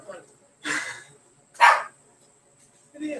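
Puppies barking in three short, sharp bursts about a second apart, close by and fairly loud, with quiet pauses between.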